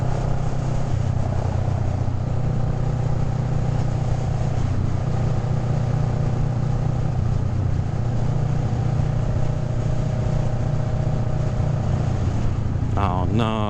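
Motorcycles riding along a road lined with palm trees in Florida, a steady loud engine drone with strong wind rush throughout, unbroken and close.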